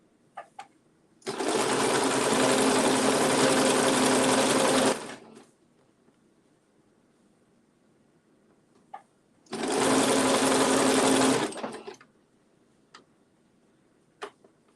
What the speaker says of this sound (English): If you guys want to know what kind of sewing machine I'm running, it is a Singer Starlet.